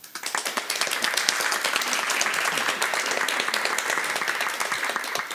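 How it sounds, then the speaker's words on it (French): A panel audience at a talk on AI and privacy claps to welcome the guests, a crisp, sustained round of many hands heard up close and fairly even in strength. "On peut les accueillir et les applaudir"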